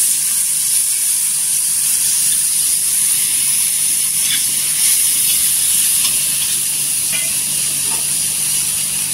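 Lemon juice sizzles in a hot iron tava alongside chillies and garlic, a loud, steady hissing fizz that holds evenly throughout with a few faint clinks, no voices.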